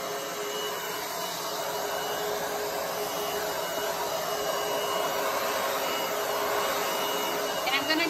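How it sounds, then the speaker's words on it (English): A blower set to high hisses in a steady, loud, continuous rush as it pushes acrylic pour paint across a surface, with a slight rise near the end. "now I'm going to turn it to high and blow out my paint"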